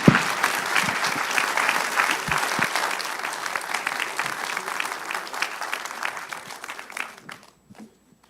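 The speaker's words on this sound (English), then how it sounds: "Please give them one more round of applause," Audience applause for authors at a book event on the founding era, a full round of clapping with scattered cheers that holds steady, then fades and stops abruptly near the end.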